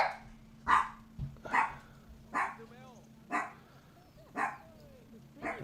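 Dogs bark repeatedly, about six sharp barks spaced roughly a second apart at moderate distance, over a low indoor hum and a faint electronic tone.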